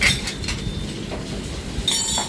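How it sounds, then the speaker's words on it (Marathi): A metal spoon clinks and scrapes against a pot while stirring dudhi batata (bottle gourd and potato) cooking with turmeric, chilli and garlic, giving light intermittent taps over a steady low background. "आता सगळं ढवळून घ्यायचं सगळं"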